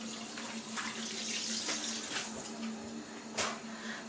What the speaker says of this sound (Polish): Ja tu zostawię, niech się woda pomalutku leje